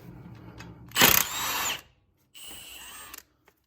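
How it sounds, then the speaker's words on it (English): An impact gun on extensions hammers at a stuck ball joint bolt on a 2012 Hyundai Tucson front suspension, one loud close burst of about a second, a brief pause, then a second shorter rattling burst. "I'm gonna hit it with this impact gun here and extensions just to get the gun to clear the brake caliper"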